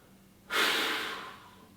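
A single heavy, forceful exhale bursts out during a strength workout and slowly trails off, close and loud against quiet.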